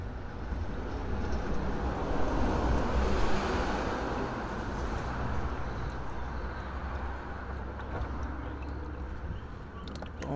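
Engine oil draining from a 2014-2018 Jeep Cherokee during an oil change makes a continuous, even, rushing pour that stays steady and fairly loud for the whole stretch, with no talking.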